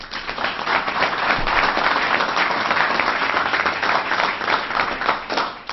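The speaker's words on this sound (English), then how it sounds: "Let's give them a round of applause." Dense, steady applause from an audience at a governor's press conference on a flooding state of emergency, with many hands clapping together in a continuous, fairly loud wash that holds evenly for several seconds.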